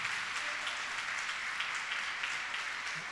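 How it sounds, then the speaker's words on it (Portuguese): A church congregation applauds, a dense, even patter of many hands clapping together that sounds somewhat distant and soft and lasts the whole moment with no talk over it. "Pode aplaudi-lo."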